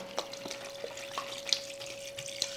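Marinade for Mexican-style grilled and smoked chicken poured out of a bag, heard as a thin liquid trickle with scattered drips and splashes over a faint steady hum, with no talking.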